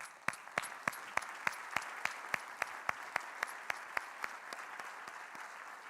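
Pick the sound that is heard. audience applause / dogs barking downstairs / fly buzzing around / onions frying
audience applause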